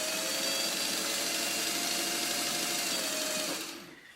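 A sewing machine runs steadily as quilt block pieces are stitched, a close, continuous mechanical whir with an even hum that carries on without a break before winding down and stopping at the end.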